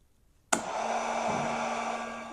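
A heat gun switches on with a sharp click and blows a steady, loud airflow hiss with a motor hum, used for shrinking heat-shrink tubing over soldered wires during a 2011 Ford Ranger stereo install.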